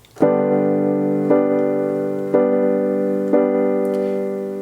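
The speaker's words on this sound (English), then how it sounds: "then you would play 4 blocked chords with your right hand" Four sustained piano chords struck one after another at an even pace, each ringing with a low bass note beneath before the next lands.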